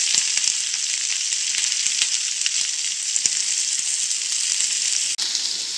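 Sliced large onion fries with salted potatoes in a pan, giving a loud continuous sizzle and crackle with light stirring scrapes throughout, no talk.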